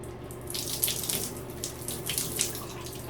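Water runs from a tap into a sink to wet fine hair, a close, splashy stream with uneven bursts as the hair is moved under it.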